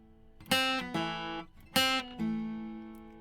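Acoustic guitar picking a bluegrass tag lick: four bright plucked notes and chords in two pairs, each struck sharply and left ringing out, played close and alone with no talking.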